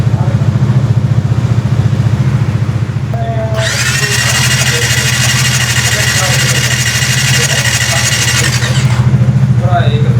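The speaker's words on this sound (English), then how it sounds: "So after spraying Motul throttle body cleaner, we just have to turn on the engine." A Benelli TRK 502 motorcycle engine runs at a steady idle throughout, joined midway by a loud, prolonged hiss that stops before the end, after throttle body cleaner is sprayed.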